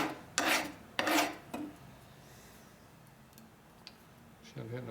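Scouring pad rasping against a Harley-Davidson FLHT Twin Cam touring engine part in a 2004 top-end rebuild, two or three loud scrubbing strokes early on, then quieter faint scratching, with a brief low voice at the end.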